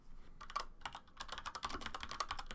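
Rapid typing on a computer keyboard, a quick, dense run of close key clicks after a few scattered strokes, steady and alone without talk.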